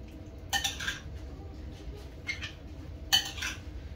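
Shrimp being mixed with seasoning in a bowl, heard as three short clinks and scrapes of a utensil against the dish, close and fairly soft, with quiet pauses between them.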